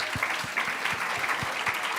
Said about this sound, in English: huge applause to our jury members